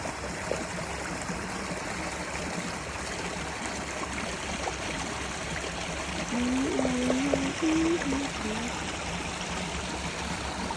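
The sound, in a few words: river water flowing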